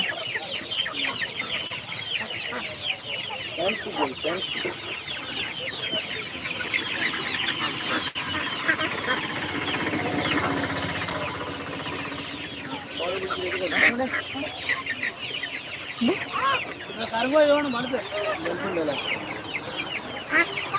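Chickens cluck and squawk continuously at a busy market, with a rooster crowing now and then, close and loud, while people talk nearby under a constant crowd bustle.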